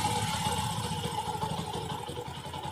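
A Bajaj Discover 110 motorcycle engine idles steadily with a close, even, low throbbing hum that runs without a break.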